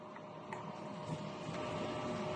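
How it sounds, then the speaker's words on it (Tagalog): A DTF printer runs its print-head cleaning cycle: a soft, continuous mechanical whir and hum at low level, with faint small clicks and no voices. "Head clean. Punasan ng wiper pagkatapos mag-head clean."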